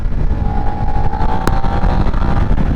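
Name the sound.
Suzuki SV650 motorcycle engine downshifting and accelerating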